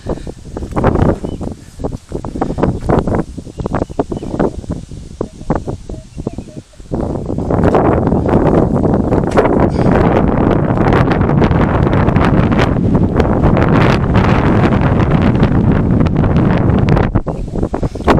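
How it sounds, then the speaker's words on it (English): Strong wind sweeps across an open farm field, roaring and buffeting the microphone in loud, continuous gusts that build and hold, with rustling in the mix and no voices. "And this wind is really picking up right now."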